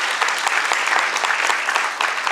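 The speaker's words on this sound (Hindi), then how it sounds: "जोरदार तालियां।" Loud, dense audience applause for the musicians after a Hindi stage play, many hands clapping steadily throughout with no pauses.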